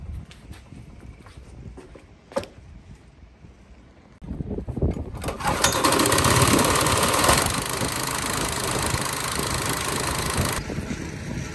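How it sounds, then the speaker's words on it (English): A gas-powered air compressor aboard the cruise ship Aurora starts up and charges: after a few seconds of quieter knocking and clatter, a loud, steady engine roar with broadband hiss kicks in and holds, close by. "Air compressor's charging up."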